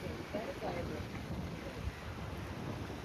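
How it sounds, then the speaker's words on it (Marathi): A fishing boat heading back to its dock near Alibaug, a steady low engine drone mixed with wind buffeting the microphone and water noise, continuous and fairly even. "बोट परतीच्या प्रवासाने वापस आपल्या डॉकवरती चाललेली आहे"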